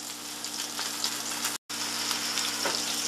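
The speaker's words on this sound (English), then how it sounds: "Asparagus won't take very long to cook" Asparagus sizzles on a grill with a dense, continuous crackle and hiss, close and steady apart from a momentary dropout midway.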